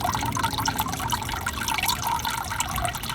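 A pond pump draws water in through a sponge: water gurgles and trickles steadily, a close, continuous bubbling slurp of liquid being drawn in, with no talking.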